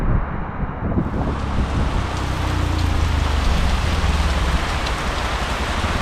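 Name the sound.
rain on a hilltop at Nilgiri, Bandarban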